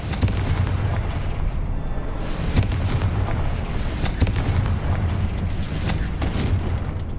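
Booming explosions of the Confringo fire spell in Hogwarts Legacy, several loud blasts rising out of a steady, dense rumble of game noise across the whole stretch.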